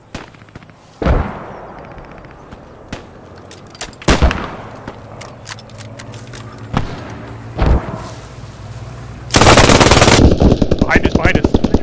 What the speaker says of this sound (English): Alright, I'm gonna set up my machine gun.